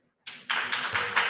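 Applause for Rabbi Yehuda Kaplun at a conference of European Jews, a short burst of clapping that starts sparse and quickly swells into several hands clapping together.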